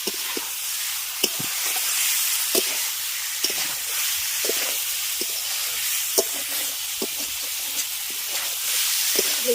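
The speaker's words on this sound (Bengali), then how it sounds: "এবার এগুলোকে ভালো করে মশলার সঙ্গে আগে কষিয়ে নেবে" Cauliflower, potato and pre-fried fish being stir-fried in spice paste, with a steady sizzling hiss and the intermittent scrape of a spatula, moderately loud, no talk.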